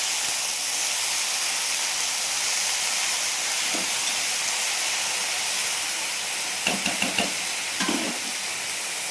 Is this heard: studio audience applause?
no